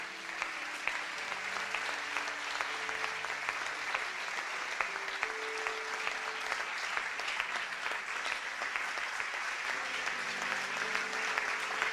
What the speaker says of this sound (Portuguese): Você pode dar uma salva de palmas por esses amigos?